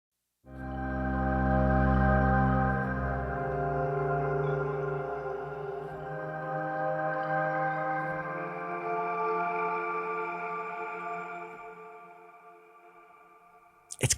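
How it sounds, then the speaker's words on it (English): Electric piano tines bowed with hair ring out as a swelling, sustained harmonic drone after a soft impact, slowly decaying with a grainy texture before a short reversed swell snaps in at the very end. "the hair bowed through the tines, and then this kind of grain decay impact at the start with a reverse convolution on the end to get this sound"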